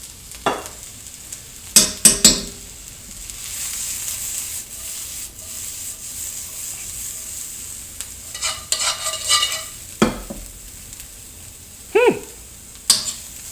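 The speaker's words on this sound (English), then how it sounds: "now we're gonna put in some diced red onion" Diced red onion sizzles softly in a pan with a few sharp scraping stirs and clacks of a utensil, set against a steady low frying hiss.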